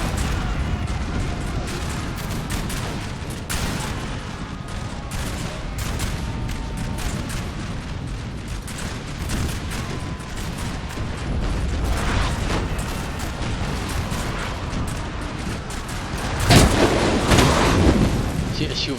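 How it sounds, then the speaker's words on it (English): Booming cannon and musket fire during a Napoleonic battle between British and French armies in Napoleon: Total War, a steady barrage of dull thuds and crackling volleys, with a loud blast near the end and someone talking over it. "My artillery is pushing them off."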